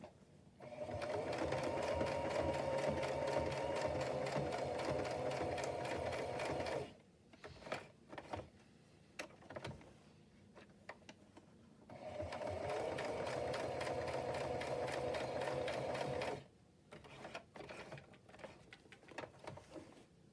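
A sewing machine stitching patchwork fabric runs in two steady whirring bursts of several seconds each, with quiet handling clicks and rustles in the pauses between them.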